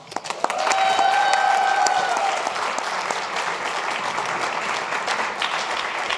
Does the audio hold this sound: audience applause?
yes